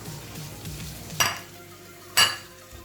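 Kofta meatballs frying in a pan with browned onion, a steady soft sizzle broken by two sharp scraping strokes of a stirring utensil, close and without talk.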